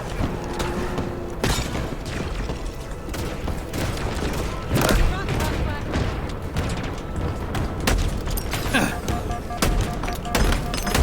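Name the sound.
grenade explosion and gunfire in a video game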